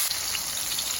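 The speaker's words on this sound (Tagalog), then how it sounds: "Pan-fry na natin yung pork chops." Flour-dredged pork chops pan-fry with a bright, steady sizzle and crackle of hot oil, close and continuous.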